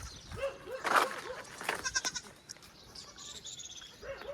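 Goats bleating close by in a farmyard, several short wavering calls in quick bursts, then a pause and another bleat near the end, with faint background noise between.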